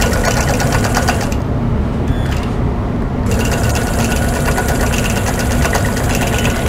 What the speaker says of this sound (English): now I'm going to baste about a quarter inch in